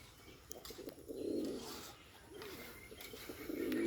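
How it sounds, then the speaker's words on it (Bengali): A Bombay pigeon's low cooing repeats in a few rhythmic phrases, moderately close, over faint background noise and light rustling. "এখন ওই দেখুন বোম্বাই কবুতরা ডাকতেছে এটা কি তেজ"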